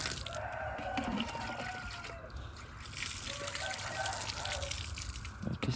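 Water trickles and splashes steadily as it is poured over fermented cassava animal feed for sheep, a continuous close liquid wash with faint background noise and no clear voices.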